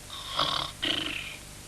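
Snoring from a sleeping cartoon character in the 1978 Mr. Men story of Mr. Lazy: two soft, drawn-out breaths in and out, faint and close, with nothing else heard.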